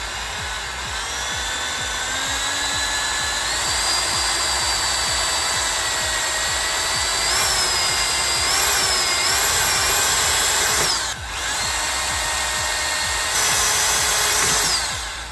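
A power drill with a 1/8 bit bores pilot holes, its high motor whine running continuously and loud, briefly dipping and rising again near the end.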